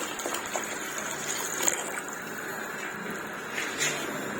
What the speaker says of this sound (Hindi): तो अब हम इसमें पानी डालेंगे। तकरीबन 2 लीटर जितना मैं पानी डालूंगी इसमें।